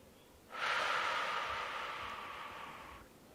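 One long, steady exhale during a yoga arm-balance stretch, starting abruptly and fading gradually over about two and a half seconds, close and breathy in an otherwise quiet room.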